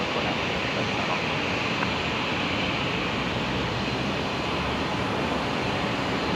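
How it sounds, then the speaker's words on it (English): A Jetstar A321neo airliner moves at Brisbane Airport at night, a steady broadband engine rumble and roar holding constant and fairly loud throughout, with no talk. "We've got the Jetstar 321 Neo on the move."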